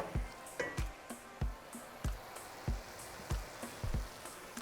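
Ground meat sizzles softly in a pan for lasagna, with a quiet steady fry broken by regular soft knocks and scrapes as it is broken up and stirred.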